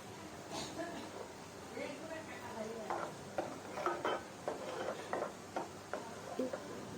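Spices and salt for a vegetarian chhana (paneer) curry are stirred and slowly fried in a pan, giving repeated soft scrapes and knocks over a low sizzle while a person talks throughout.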